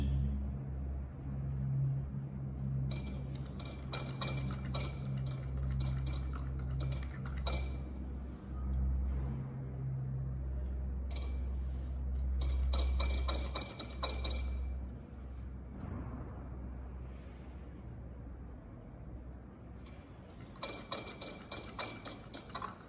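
Glass rod stirring sodium hydroxide solution in a beaker during a pH titration, giving bursts of rapid, bright clinking against the glass, repeated in several clusters over a low background hum.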